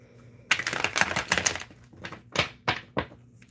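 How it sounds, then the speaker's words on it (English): Tarot cards shuffled by hand during a live card reading, giving a dense burst of crisp riffling followed by several separate snappy card flicks, close and fairly loud, with no talking. "Shuffling for Witchy"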